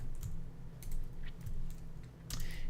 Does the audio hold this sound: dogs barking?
no